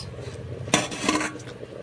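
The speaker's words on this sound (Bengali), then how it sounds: "তো চলো এবারে মাছগুলো দিয়ে দিই, ভেজে রাখা মাছ।" Fried fish slides into a pot of boiling curry broth with a sharp clatter of metal utensil against the pot, followed by softer scraping and stirring knocks, fairly quiet and close.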